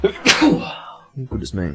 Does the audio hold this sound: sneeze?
yes